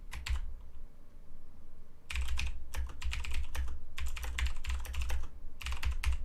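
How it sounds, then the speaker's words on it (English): Rapid bursts of typing on a computer keyboard while a chat message is entered during a Fallout 4 Far Harbor live stream, a brief pause and then dense, close clattering keystrokes continuing steadily. "Typing the message to a chat."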